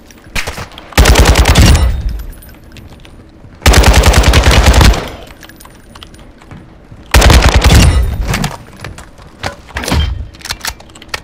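In Call of Duty: Modern Warfare II, loud automatic gunfire erupts in three long, rapid bursts of about a second each, separated by quieter pauses, with a few scattered single shots trailing after.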